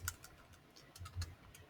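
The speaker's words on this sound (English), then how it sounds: "So then typing this through the calculator" Scattered light key taps on a calculator keypad, a few soft clicks spaced irregularly over a quiet room background, no talking.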